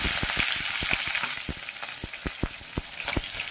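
Chopped onions hit hot oil with bay leaf and two dried chillies, giving a steady loud sizzle dotted with sharp regular crackles and pops.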